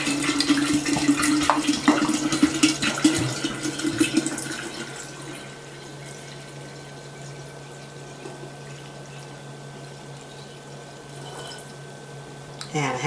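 Half a gallon of water poured into a pot for cooking apple scraps, a steady close splashing stream for about five seconds that then fades to quiet room tone.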